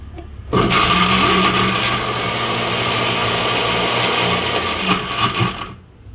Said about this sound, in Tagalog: I-blender na po natin siya.